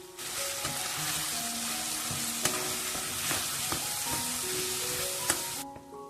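Steady crackling sizzle of cumin and turmeric powder frying in a pan, with occasional scraping stirs and brief clinks, close and continuous with no talking.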